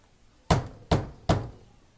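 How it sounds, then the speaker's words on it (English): Three loud, evenly spaced knocks on a door, heavy and close, each with a short resonant decay, set against near silence. "the knocking was loud enough to rattle the door"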